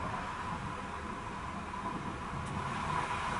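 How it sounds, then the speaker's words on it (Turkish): A tow truck drives past on a road beside a bus, heard as a steady broad roar of engine and tyre noise that stays level throughout with no voices. "Çekici yanımızdan geçecek şu an."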